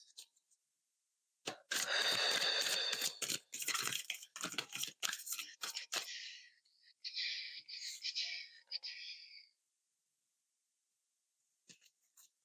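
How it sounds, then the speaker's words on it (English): Tarot cards shuffled in a quiet room, bursts of crisp riffling and flicking that stop and start over several seconds before near silence. "This is the longest shuffle I've had all day."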